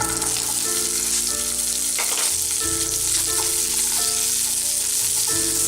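Onions sizzle and fry in a teaspoon of hot oil in a pan for a kadamba chutney, a steady close crackling hiss throughout with no talking.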